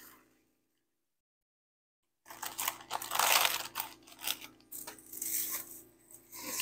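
Dry crackers, nearly a whole sleeve, crumbled by hand into a bowl for a bacon-wrapped meatloaf, giving close, loud crackling and crunching bursts after a short silence.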